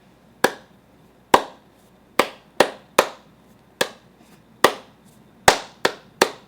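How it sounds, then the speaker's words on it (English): Hands clap about eleven times, sharp and close, in an uneven rhythm with short gaps and a few quick pairs, each smack standing alone against a quiet room. "I'm clapping"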